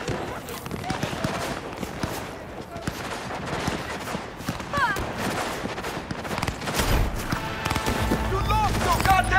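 Rapid bursts of gunfire fill a Cyberpunk 2077 firefight, with dense crackling volleys running steadily under game voices and a low rumble building toward the end.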